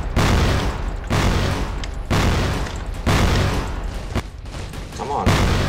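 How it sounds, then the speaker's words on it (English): Grenade launcher explosions in the video game CrossFire, a series of loud heavy booms roughly once per second, each bursting into broad rumbling noise, with a voice talking beneath. "And use the grenade launcher."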